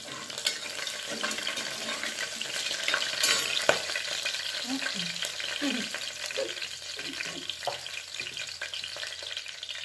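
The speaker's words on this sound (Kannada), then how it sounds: "ನೀಟಾಗಿ ಫ್ರೈ ಮಾಡ್ಕೊಳ್ಳಿ." Frying in a pan for donne biryani gives a steady, close sizzle and crackle, with occasional stirring scrapes and a brief clatter partway through, and no one speaking.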